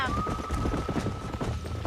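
Hooves of a galloping horse in the Western game Red Dead Redemption drum in a quick, rhythmic clip-clop, close and prominent, with a brief whinny-like tone riding over them.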